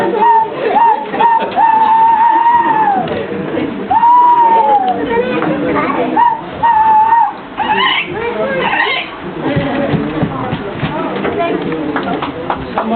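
A man imitates a tawny owl's call with his voice for a live audience, producing several drawn-out, whistle-like hoots that glide downward, with crowd murmur and background bustle around him.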